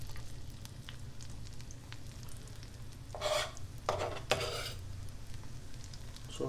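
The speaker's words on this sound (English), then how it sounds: "I hear a little sizzle there, so let's put our red onion in." Red onion sizzling softly in a hot pan, a quiet steady fry with a few brief scraping stirs of a spoon partway through.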